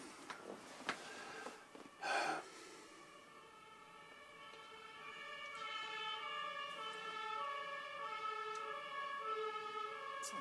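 An ambulance siren wails steadily, distant and faint at first then growing louder as it approaches, after a few brief knocks and rustles.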